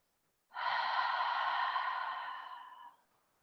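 A single deep, audible breath taken during a yoga pose similar to an upside-down plank, breathy and close, lasting about two and a half seconds before fading out into silence.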